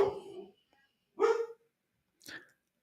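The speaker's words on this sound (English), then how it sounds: "my dog's freaking out." A pet dog barks indoors in three separate bursts spaced about a second apart, loud and close, with no talking over it.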